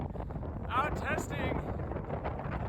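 Strong gusty wind roars across a snowy winter trail during a run, a loud continuous rumble buffeting the microphone with some rushing swells, heard alone throughout.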